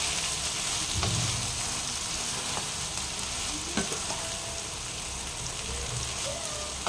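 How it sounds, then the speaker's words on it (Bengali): Ridge gourd, potato and poppy seed frying together in a pan over a low gas flame, giving a steady close sizzle with occasional scraping clicks from stirring. "একটু ঝিঙে আলু পোস্ত একটু আমি 2 মিনিট ভাজা ভাজা করে নেব"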